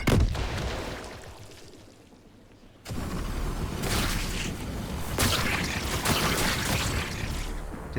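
A grenade explosion in the video game The Last Caretaker: a sharp blast opens, then a rumbling tail fades to near quiet before a sudden second roaring burst that rolls on loudly to the end.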